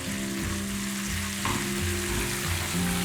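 Chilies tempering in hot oil in a pan on the stove, giving a loud, steady, close sizzle that runs through the whole stretch with no talking.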